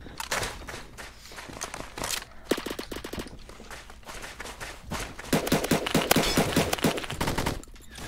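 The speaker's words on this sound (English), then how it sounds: "Shotgun time!" Shotgun fire in the first-person shooter Phantom Forces crackles in rapid bursts and clusters of shots, with busier, louder firing in the second half, all close and without voices.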